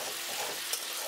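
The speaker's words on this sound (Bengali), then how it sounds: "দিয়ে এটাকে ভালো করে ভাজা ভাজা করব।" Green chilli paste frying over low heat in a pan for restaurant-style chicken bharta, giving a steady, close, soft sizzle with no talking.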